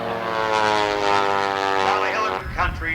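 Aerobatic propeller planes fly in formation at a 1990 air show in Traverse City, Michigan, their engines forming a loud, sustained droning roar with shifting pitch as they pass overhead.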